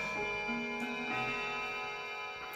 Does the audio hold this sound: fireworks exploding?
no